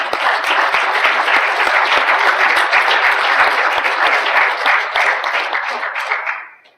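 Sustained audience applause at an annual general meeting, a dense crowd of clapping hands acknowledging staff, steady and loud for several seconds before tapering off quickly at the end.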